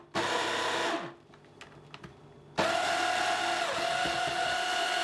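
A food processor whirs loudly as walnuts and flour are blended into Linzer torte dough, running steadily, dropping to a brief quieter pause with small clicks, then roaring back at full power until the end.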